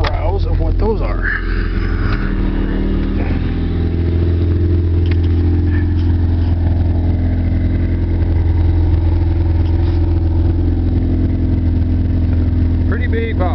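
A Ford Tempo's engine runs at a steady idle, a loud continuous low rumble heard up close inside a car fitted with two 12-inch trunk subwoofers, with someone talking intermittently over it.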